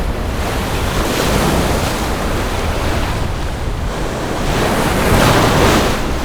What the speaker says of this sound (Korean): 10m 높이 방파제 위로 파도가 넘어옵니다.